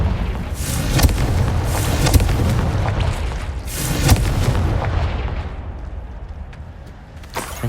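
Blasting fire spell going off in Hogwarts Legacy: a sustained roar of booming explosions, with heavy blasts near 1, 2 and 4 seconds over a rumbling low end, then a fading rumble.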